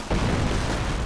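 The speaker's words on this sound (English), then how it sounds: "And sector artillery going in. Sector artillery." Sector artillery barrage in a 2v2 real-time strategy match: a single sustained, deep rumbling explosion booms and rolls on for about a second, loud and dense in the low end.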